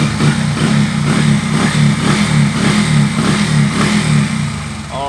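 A Suzuki Shogun Pro 125 motorcycle engine, freshly reassembled after transmission work, idles smoothly and steadily up close with a strong, even low throb throughout, easing slightly toward the end.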